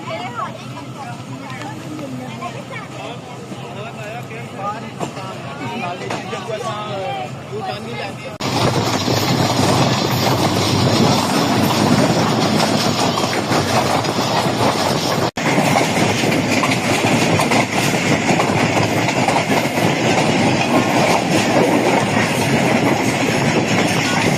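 A Pakistan Railways passenger train runs toward Rawalpindi, its wheels clacking over rail joints. The rumble is steady and swells sharply louder partway through. A voice talks over parts of the run.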